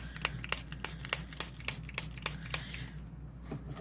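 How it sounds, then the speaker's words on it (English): Alcohol is sprayed from a pump bottle onto freshly poured resin in a series of quick, quiet, evenly spaced spritzes, about a dozen short bursts over a low steady hum. "And I am going to spray this one with some"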